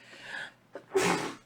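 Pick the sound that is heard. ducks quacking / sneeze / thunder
sneeze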